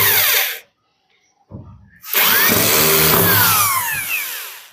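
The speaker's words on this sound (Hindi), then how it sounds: "स्क्रू को लूज करेंगे" A power drill loosens a screw on the metal channel of a bed box, whirring loudly at close range, cutting out briefly, then spinning up again into a sustained whine.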